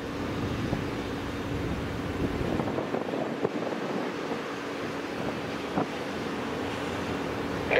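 Strong gusty wind at Minneapolis–St. Paul airport ahead of an approaching storm, a continuous loud roaring rush with buffeting on the microphone and occasional thumps, with no voices.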